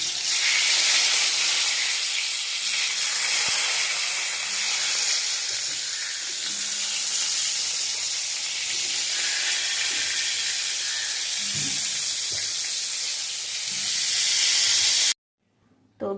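Eggplant slices frying in hot oil, a loud, steady hiss and sizzle close by that runs continuously, with faint clinks now and then, before cutting off abruptly at the end.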